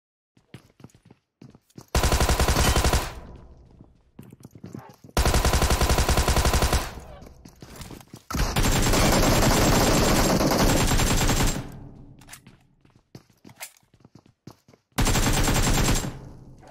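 DBS shotgun fire from the PUBG Mobile game comes in loud, dense bursts of rapid shots, several seconds apart, with quieter clicks and game sounds in between.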